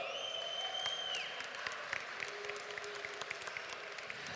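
An audience at a Playcon esports grand final applauds as a team walks on stage, a sustained wash of clapping and crowd noise with a few sharp claps and a faint tonal sweep early on.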